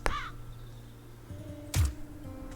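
Crows caw in the forest of the video game Wytchwood, a few harsh calls spaced apart, one early and one louder near the end, over quiet ambient game music.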